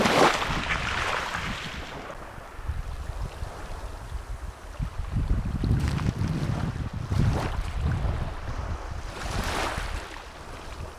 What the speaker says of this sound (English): Sound of the ocean never gets old